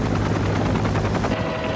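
A helicopter flying during a horse rescue in a steep canyon, its rotor beating in a loud, continuous rapid chop with a low engine hum throughout.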